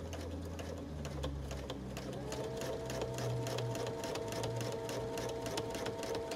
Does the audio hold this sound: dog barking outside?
no